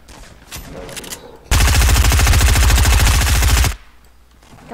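Sustained rapid automatic gunfire in Fortnite bursts loudly for a couple of seconds, with fainter game sounds before and after.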